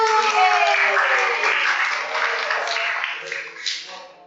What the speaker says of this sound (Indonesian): Dari tepuk tangan untuk kelompok 1.